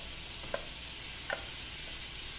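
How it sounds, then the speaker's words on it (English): Shrimp go into a pan of cooking onions, a continuous soft sizzle and frying hiss with two brief stirring scrapes, fairly quiet and with no talking. "And now I'm going to add in my shrimp"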